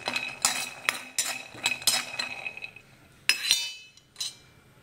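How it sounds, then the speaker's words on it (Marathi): Peanuts dry-roasting in a pan for a curry-leaf chutney, stirred with a spoon: a run of sharp clinks and scrapes against the metal in irregular bursts, fairly close, with quiet gaps and no talking. "आता शेंगदाणे खूपच भाजून घ्यायचे."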